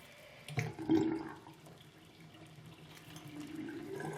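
Tap water runs and splashes into a shallow basin while a hedgehog is bathed, a steady close trickle with a brief louder splash near the start.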